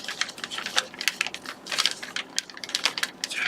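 Paper crinkles and creases in quick, close, crisp bursts as a sheet is folded into an origami polar bear, a steady run of small crackling strokes with no voice over it.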